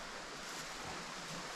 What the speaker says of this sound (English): Got the Little Manistee River right here